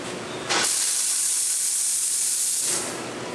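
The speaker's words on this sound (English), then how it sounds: "We'll show you your 2 steam knobs and how they work." Steam wand on a three-group La San Marco espresso machine releases a loud, steady hiss that bursts on abruptly and holds for about two seconds before cutting back to a softer background.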